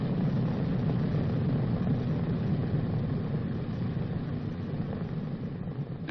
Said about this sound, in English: When the airplane reaches the runway, the engines must be checked.